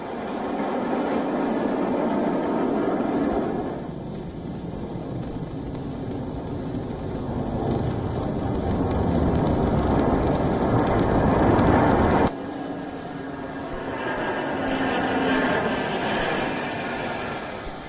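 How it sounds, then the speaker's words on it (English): Red Arrows RAF jets on a flypast over London and the Thames, a broad, sustained roar that swells and fades across the clip, loud and continuous with no talk. "The flypast was seen across London skies as the aircraft soared over the Thames."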